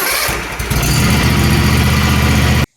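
A zero-turn mower engine cranks over and catches on the key, settling into a loud, steady, throbbing idle close by with no talk.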